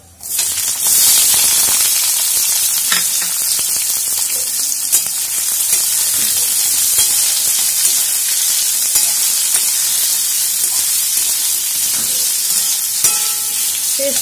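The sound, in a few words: chopped onions frying and being stirred in pan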